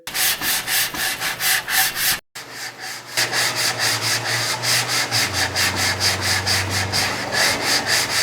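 Rhythmic back-and-forth rasp of a sanding block with 80 grit sandpaper working over dried body filler on a car panel, steady close strokes with one brief pause partway through.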